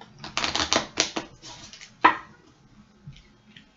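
Quick bursts of papery riffling and flicking, a rapid cluster of taps followed by a sharper snap, then quiet; close and fairly soft.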